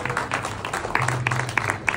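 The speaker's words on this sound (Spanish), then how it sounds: "así que un aplauso para él, por favor" An audience applauds in tribute to Alfredo Asfura, a short burst of steady, moderately loud clapping from a crowd in a hall.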